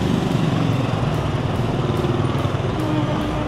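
Heavy Hanoi street traffic with many motorbikes streaming past, their engines forming a dense, continuous buzzing drone heard up close from a crossing, with faint voices underneath.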